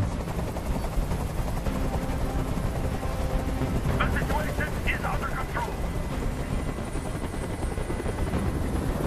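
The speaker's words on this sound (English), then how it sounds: "Tell that helicopter to get out of here." Steady helicopter rotor drone in a video game, Detroit: Become Human, fills the scene, with a brief burst of rapid gunfire-like bursts midway and someone speaking over it.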